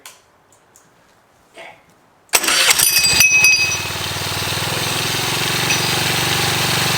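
A Honda Navi mini motorbike with a newly installed clutch starts after a few faint clicks, catching with a loud burst and then settling into a steady, close, rattling idle.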